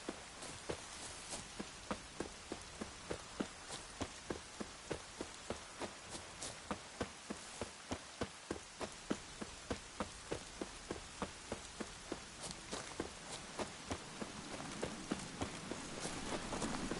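Rain in The Witcher 3 pours as a constant dense hiss, with a long run of evenly spaced clip-clop thuds keeping a steady pace underneath and no voices.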